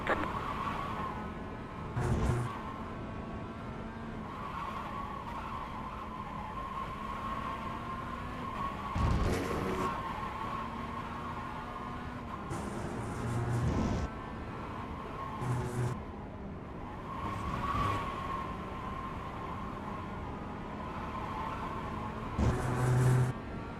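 Race cars lapping Virginia International Raceway in the iRacing sim, a steady high engine drone with harmonics that swell and surge every few seconds as cars accelerate and pass close by.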